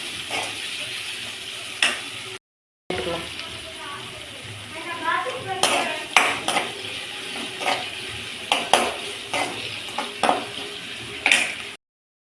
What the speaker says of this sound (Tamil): வெங்காயம் பூண்டுலாம் வந்து நல்லா வதக்கணும்